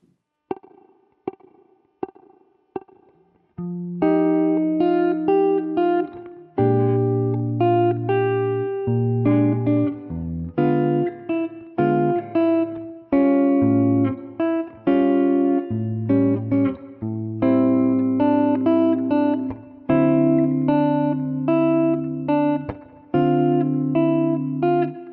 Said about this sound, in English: now let's listen to the whole B section at a slower tempo.